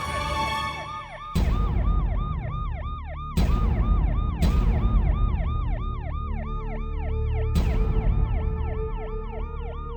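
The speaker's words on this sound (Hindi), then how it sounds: "इतनी रात को हवेली में एम्बुलेंस की आवाज?" A loud ambulance siren wailing in a rapid, repeating up-and-down pattern, cutting in and out with brief restarts, close and dominant throughout.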